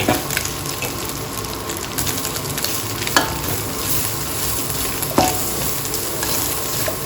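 Fermented pork stir-fried with glass noodles and onion in a hot pan, with continuous loud sizzling and scraping stirs.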